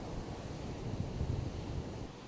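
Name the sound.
sea waves on the shore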